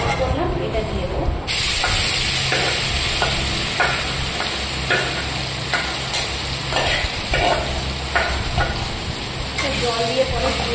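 Masala paste sizzling and spitting in a hot pan for an egg curry, with steady scraping strokes of a spoon or spatula stirring it through, a constant close frying hiss underneath.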